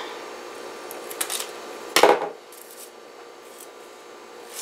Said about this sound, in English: and trim with scissors.